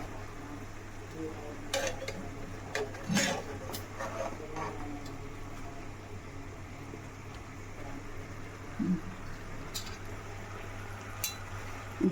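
Chicken alfaham being flipped on a tawa at home, without a grill or oven: scattered light metallic clinks and scrapes over a steady low hum, fairly faint.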